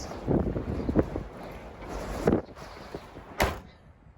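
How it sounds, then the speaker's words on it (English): Strong gusting wind during a haboob dust storm in Balmorhea, Texas, buffeting the microphone in rough rumbling bursts close by, with a few sharp knocks or rattles. "The wind in Balmorhea, Texas was incredible."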